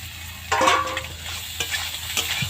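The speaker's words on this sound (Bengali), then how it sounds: "তো ডিমটা দিয়েও আমি একটু নেড়ে চেড়ে নিচ্ছি।" Eggs stirred with boiled soybean chunks in a frying pan, a soft sizzle under repeated scraping strokes of a utensil against the pan, close and steady.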